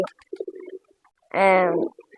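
A pigeon's throaty coo swells up after some faint soft murmurs, close and clear in a quiet setting.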